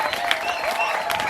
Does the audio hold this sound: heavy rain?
no